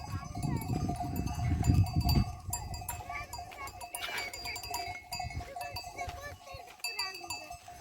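Cowbells clanking repeatedly among a flock of sheep, with bleats and people talking nearby in an outdoor setting.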